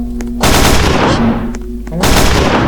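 Gunfire in the Roblox video game, with loud broadband shots in two bursts separated by a quieter gap, the first arriving after a short lead-in and the second near the end.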